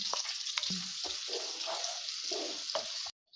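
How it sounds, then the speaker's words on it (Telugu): Onion chilli paste fries on medium flame in a pan, a dense, even hiss with a few soft stirring scrapes, close by and without talk, ending abruptly. "గ్రైండ్ చేసుకున్న ఆనియన్ చిల్లీ పేస్ట్ వేసి మీడియం ఫ్లేమ్లో గోల్డెన్ బ్రౌన్ కలర్ వచ్చేదాకా ఫ్రై చేసుకోండి"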